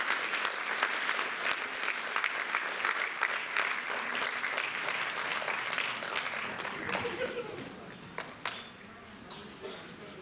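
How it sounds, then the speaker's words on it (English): Audience applause at a Goa singing competition awards event, dense clapping that carries steadily for several seconds, then thins out into scattered individual claps near the end. "A round of applause, please."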